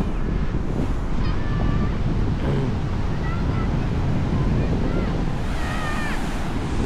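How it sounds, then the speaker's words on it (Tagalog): Strong sea waves crash on the beach at Lido di Jesolo near Venice, Italy, driven by strong wind. The surf roars continuously and loudly, with wind buffeting the microphone and faint voices now and then. "Napakalakas ng alon ah."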